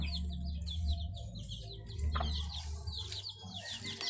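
Hungry backyard chicks chirping in rapid, repeated high peeps close by, over a low hum and a few clucks from grown chickens, no talking.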